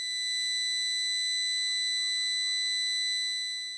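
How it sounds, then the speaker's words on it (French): A school siren, switched on by the principal from his office at 7:45 to start the day, holds a steady, loud electronic tone with no pauses and no voices, fading in and out at the edges. "le directeur, une fois à son bureau, appuie sur le bouton de la sirène"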